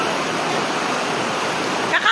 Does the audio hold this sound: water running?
yes